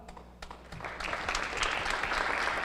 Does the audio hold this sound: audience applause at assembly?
yes